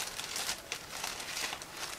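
A plastic bag holding an Armory Models 1/72 Mod.4350 plastic model truck kit is opened, giving soft, continuous crinkling and rustling close by, with no voices.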